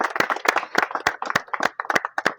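An audience at a Syngenta agricultural product presentation claps loudly, a close, uneven burst of sharp individual claps with a loose, irregular rhythm from a modest group of people.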